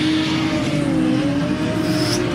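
A drift car with a 2JZ engine holds a high, sustained engine whine with slowly wavering pitch as it initiates a drift at a French drift championship round, loud and close, without talk.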